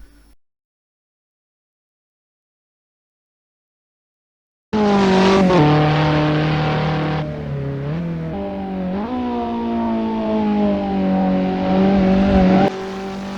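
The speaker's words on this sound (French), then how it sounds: "ce que je viens de faire, en fait, c'est un freinage dit progressif" After several seconds of silence, a race car's engine bursts in loud and close, its pitch stepping down through downshifts as the driver brakes progressively on track, with faint tyre noise beneath.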